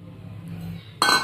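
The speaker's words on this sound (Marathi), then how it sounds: "ह्याच कढईमध्ये मी साखर घालत आहे।" Sugar goes into a metal kadai for barfi syrup: a soft quiet pour, then a sudden bright metallic clink and rattle near the end, close up.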